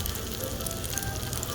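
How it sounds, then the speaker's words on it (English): Hot sisig and dinakdakan sizzle on a metal plate at Binhi Bistro in Hotel Casiana, giving a steady close crackling hiss with no talk over it. "Got to jump in on this one because it is sizzling hot."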